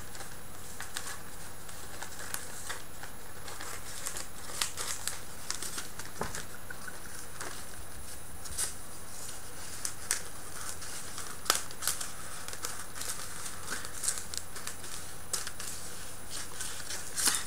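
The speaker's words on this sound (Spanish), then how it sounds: "Y ahora solamente es cortar el papel." Scissors cut through wrapping paper being fitted over a game controller, a steady run of close crisp snips and rustles with sharper cuts scattered throughout and no talk.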